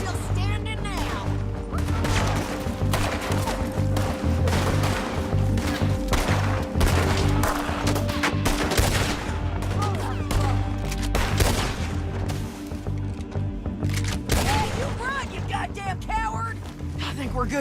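Dense gunfire in Red Dead Redemption II, rapid overlapping shots and crashes running nonstop through a loud game mix, with music and character voices underneath.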